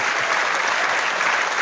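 Theatre audience applauding after a James Bond concert song, a dense, even roar of many hands clapping, loud and continuous.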